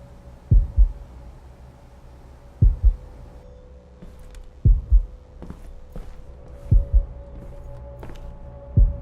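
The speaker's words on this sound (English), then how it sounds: "Why is my heart beating in my face?" Slow heartbeat sound effect from the video game Observer, a steady series of deep double thumps roughly every two seconds over a low droning hum, with faint clicks in between and no talk.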